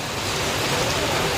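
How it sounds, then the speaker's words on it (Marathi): Heavy rain falls hard and steady, a dense close hiss filling the short stretch with no voices over it. "पाऊस आलेला"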